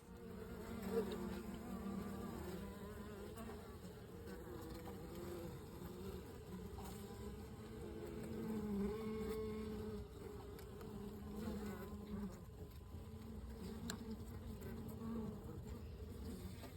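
Honey bees buzzing around a hive fitted with a frame feeder of sugar syrup in a garden, a dense continuous drone that swells slightly and fades, fairly quiet and steady with no speech.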